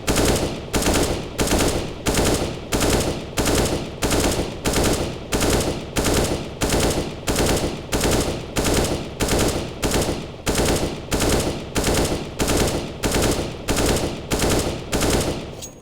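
Automatic gunfire from the shooter game CS:GO, fired in short, evenly spaced bursts that repeat steadily at close range, loud and unbroken by talk.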